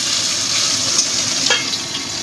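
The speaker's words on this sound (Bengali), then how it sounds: "মাছটা ভেজে নিচ্ছি" Tangra fish frying in hot oil in a kadai, a steady bright sizzle with small pops and crackles, close and continuous.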